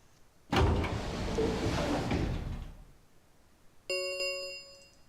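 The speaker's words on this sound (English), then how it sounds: "Suddenly the warehouse was filled with a groan and clang of metal doors grinding shut." Heavy metal warehouse doors in a video game grind and groan shut in a long, loud scraping rush that cuts off, followed by a bright ringing electronic tone.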